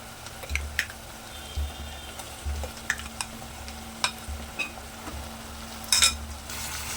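Marinated chicken sizzles with golden-browned onions in a pan, a steady low fry punctuated by scattered stirring scrapes and clinks, close and moderately loud with no talking.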